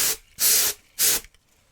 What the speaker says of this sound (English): And then with my compressed air